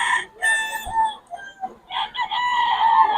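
Chickens on a rainy farm crowing and clucking loudly nearby, several overlapping calls in quick succession with brief pauses between them.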